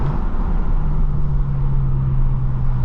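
Steady low engine drone and rushing air inside a BMW M6 while driving in traffic, a constant hum with a soft intake whoosh, fairly loud with no voices.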